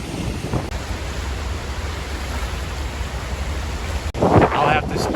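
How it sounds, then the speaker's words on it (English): Strong wind roars steadily across the Uruguayan coast, buffeting the microphone with a dense, unbroken rumble; a voice starts speaking near the end. "I'll have to speak over the wind for this"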